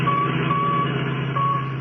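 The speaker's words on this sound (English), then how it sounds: "That's the signal from the radio in the Royal Coupe that they got away with." A radio tracking signal from a stolen Royal Coupe beeps in steady repeating tones over a constant low engine hum.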